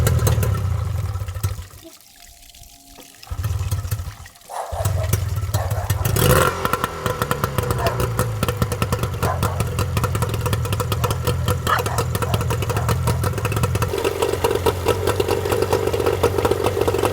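A sailboat engine runs steadily at idle with a dense, even chugging clatter, after a brief quieter stretch near the start.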